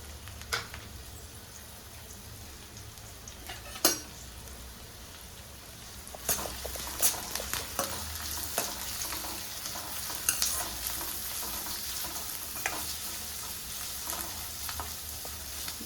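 Chopped onions, green chillies, garlic and ginger fry in a pan for a Kerala-style squid curry. A continuous sizzle runs under repeated scraping stirs and clinks that come closer together in the second half.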